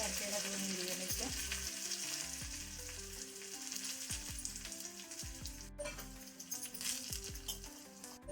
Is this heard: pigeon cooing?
no